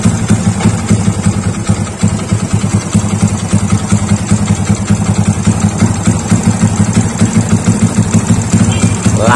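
A Honda Astrea Grand 125cc motorcycle engine idles close by, giving a loud, steady, low rhythmic putter that holds even and continuous for the whole stretch, with no revving and a faint hiss of background noise behind it.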